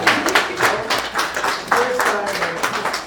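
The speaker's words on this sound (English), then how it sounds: "So I think let's give them a round of applause." A press conference audience claps in a short burst of applause, many hands mixed with some voices, moderately loud and close.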